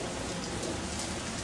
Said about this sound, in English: it means I have to go out in the rain